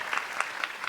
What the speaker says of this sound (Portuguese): Também peço aí uma salva de palmas para o Rodrigo, que está aqui com a gente nessa tarde de hoje.